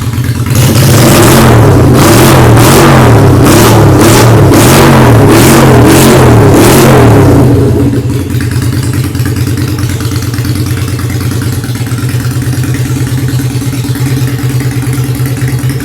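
Honda Steed 400 cc motorcycle engine, custom-styled, revving hard in a series of sharp throttle blips for about seven seconds, then settling into a steady, loud, rumbling idle close by.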